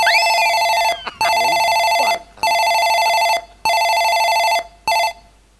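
A telephone bell ringing in five loud, steady bursts separated by short pauses, close to the listener, with faint voices in the background.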